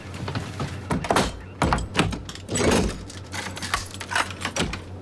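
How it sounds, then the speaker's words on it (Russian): A locked door is yanked and rattled, giving a rapid string of clunks, knocks and jangling metal in loud close bursts, with no talk over it. "Это чёртова дверь заперта."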